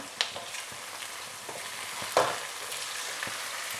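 Egg curry gravy sizzles in a pan while it is gently stirred, a soft continuous frying hiss broken by a few light scrapes and taps of the spoon.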